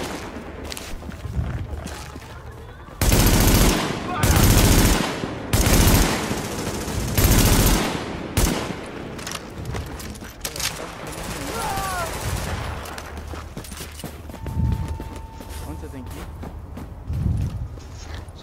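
Gunfire in The Division video game, with several loud bursts of automatic fire in quick succession, then quieter shots and footsteps, and a person talking in between.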